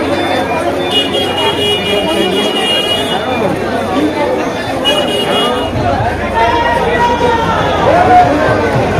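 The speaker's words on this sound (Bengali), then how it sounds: "এই ঠাকুর বিশাল একটা হিউজ ভিড় করেছে" Huge crowd gathered for a Ram idol immersion procession at Ramrajatala, with steady dense murmur and babble of many voices close and all around, some clearer voices rising briefly and a low rumble underneath.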